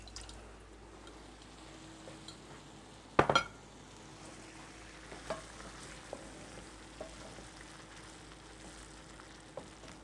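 A mixture is sautéed in a pan before puree goes in, with a low continuous sizzle, one sharp clatter of a spoon stirring, and scattered light taps, all fairly quiet.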